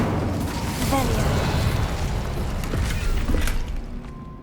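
A Revelio revealing spell cast in Hogwarts Legacy gives a loud, deep booming pulse with brief shimmering tones layered over a sustained rumble.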